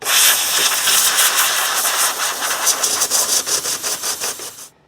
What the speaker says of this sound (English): use your air blower and blow off all that loose paint